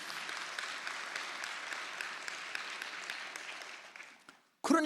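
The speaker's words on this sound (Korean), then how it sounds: "우리 하나님께 영광의 박수 한번 올려드릴까요?" A Korean church congregation claps during a Sunday worship service, a broad wash of many hands sustained for about four seconds before fading out, then a voice begins.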